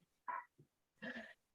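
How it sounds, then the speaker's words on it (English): A dog mouths and chews playfully on a person, letting out a short whine, a brief low grunt and then a longer growling whimper, close and separated by quiet gaps. "I got a dog that decided I'm now a chew toy"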